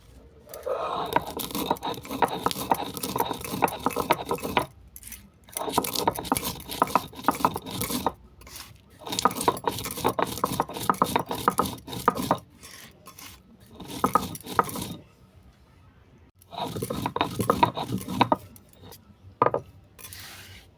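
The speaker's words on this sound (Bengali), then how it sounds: "এরপর মশলাটা আমি গুঁড়ো করে নেব।" Whole spices being ground in an electric grinder for a sweet green tomato pickle, heard as loud rasping, scraping bursts that start and stop in several pulses separated by short pauses.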